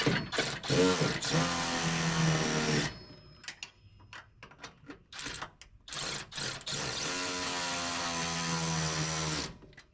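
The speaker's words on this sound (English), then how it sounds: "I'm actually going to use a cordless ratchet just because it's a little easier" Cordless ratchet driving bolts on Firestone airbag brackets of a Toyota Tacoma, loud whirring bursts near the start and again toward the end, with short clicks and pauses between.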